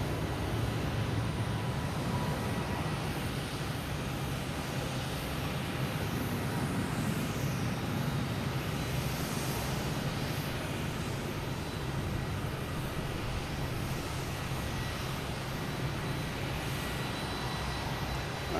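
Air Portugal Airbus A321neo jet departing Boston Logan for Lisbon: a steady, distant broadband engine roar with low rumble, constant and unbroken throughout, no voices.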